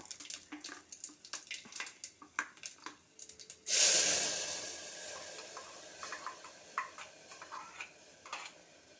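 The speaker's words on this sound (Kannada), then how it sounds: "ಇದೆಲ್ಲ ಚೆನ್ನಾಗಿ ತೊಳ್ಕೊಂಬಿಟ್ಟು ನಾವು ನೀರು ಹಾಕ್ಕೊತಾ ಇದ್ದೀನಿ ಮಿಕ್ಸಿ ಗ್ರೈಂಡ್ಗೆ" Water is poured into a mixer grinder jar while rinsing it out during home cooking of a greens saaru: a sudden splashing pour near the middle that fades into gurgles, with soft clicks and taps around it and no talking.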